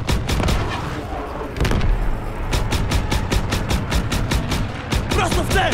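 Rapid bursts of gunfire in Call of Duty: WWII crack out in quick regular volleys over a dense rumbling background, loud and close.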